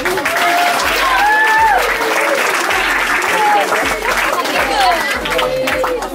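Applause from an audience at a book presentation, dense continuous clapping with crowd chatter and cheering voices over it.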